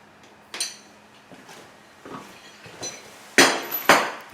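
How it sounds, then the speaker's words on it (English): Door lock screws come out under a screwdriver with a few scattered metallic clicks and clinks, close and sharp, the last ones louder, with no talking. "we'll take the screws out nice and easy"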